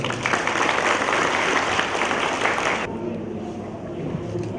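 A crowd claps loudly for a few seconds at a provincial International Day of Persons with Disabilities ceremony in Kalasin, Thailand, then the applause drops off abruptly, leaving quieter background noise.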